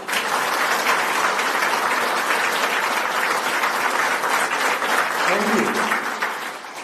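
A seated audience bursts into loud, sustained applause, dense clapping that holds steady for several seconds before easing slightly at the end.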